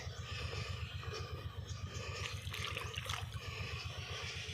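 Steady trickling and splashing of water pouring onto the ground, soft and continuous, with a low engine hum underneath and no talking.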